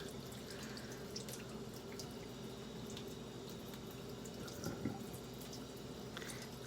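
Tap water running steadily into a sink, a constant close splashing hiss with faint drips throughout and no voices.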